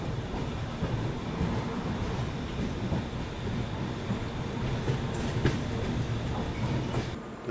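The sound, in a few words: Swatantra Senani Express train stopping at Chhapra Kachahri station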